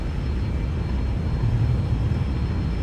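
Boeing 737 jet engines at takeoff power in X-Plane 11 give a steady, loud, broadband roar that holds even throughout, with no voices.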